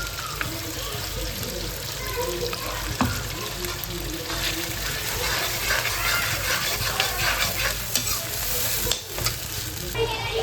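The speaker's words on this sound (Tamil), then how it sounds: "அரைச்சி இஞ்சி பூண்டு பேஸ்ட் போடுவோம்" Ginger garlic paste fries and gets stirred in a pan for paneer pulao, a loud continuous sizzle with scraping and clinking of the spoon, close up, with faint talk in the background.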